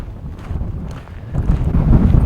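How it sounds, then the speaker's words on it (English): Strong outdoor wind buffets the microphone in low rumbling gusts that swell louder toward the end, with no other clear sounds. "It's super windy today,"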